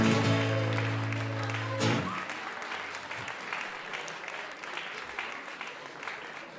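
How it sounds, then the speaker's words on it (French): Applause from an audience, loud at first then settling into steady clapping that gradually thins, with a brief sustained tone fading out early on. "on peut applaudir vraiment super bien fort"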